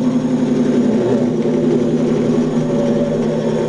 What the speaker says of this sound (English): There's the engine.